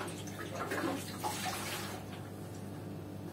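Petrol sloshing inside a drained fuel tank from an early Honda motorcycle, a continuous close liquid swish and splash that fades a little toward the end, with no voices.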